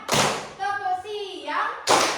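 A classroom of children claps in unison, a burst of hand claps at the start and another at the end, with a chanting voice between them.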